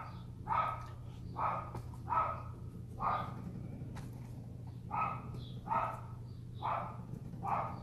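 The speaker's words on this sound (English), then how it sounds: "He loves barking at the mailman" A dog barks at a distance in a steady series of about eight evenly spaced barks, moderately faint over a low background hum.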